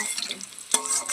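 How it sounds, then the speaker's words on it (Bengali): Pakoras deep-frying in hot oil, a steady close hiss and sizzle with one brief scrape of utensil against the pan, with no voices. "তো আমি এইভাবে সব পকোড়াগুলো ভেজে নিই"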